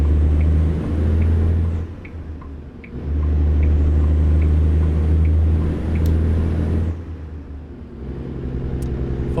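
A truck engine in American Truck Simulator drones with a deep, bassy rumble, loud and steady, dipping briefly twice as if shifting gears, then resuming, with no speech over it.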